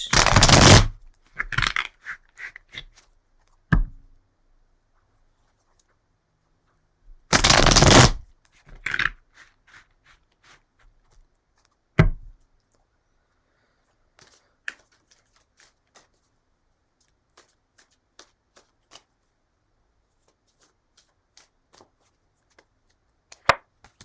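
A tarot deck is shuffled by hand in a few short, crisp riffling bursts, the two longest near the start, with quiet gaps and faint light taps between them.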